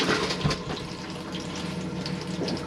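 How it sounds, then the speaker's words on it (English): Electric freshwater toilet flush in an Elddis Flyte 145 caravan, a steady rushing of water with pump noise running continuously, close and fairly loud with no talking. "press the blue button, which is the electric freshwater flush"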